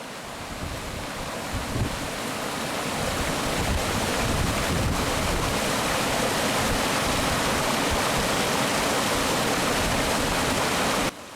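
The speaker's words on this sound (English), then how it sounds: "there's the waterfall." Mountain waterfall in the Lake District's Langdales on the route to Stickle Tarn, giving a steady, close rushing roar of falling water that holds evenly for the whole stretch with no voices.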